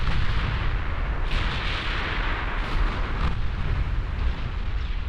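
Battleship guns thunder in the Ultimate Admiral Dreadnoughts naval game, set in a 1920s German fleet battle, as a dense, continuous roll of heavy booms and rumbling blasts without a pause.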